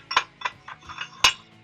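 A steel bottom die for 25mm hammer fullers drops into a guillotine forging tool, giving a few sharp metallic clinks and knocks, close and crisp, with a final louder clank near the end.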